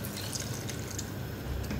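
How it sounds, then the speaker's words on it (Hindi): Half a cup of water pours into a pan of chana gravy, a steady close-up splashing hiss that runs unbroken throughout. "1/2 कप पानी डालूंगी इसमें।"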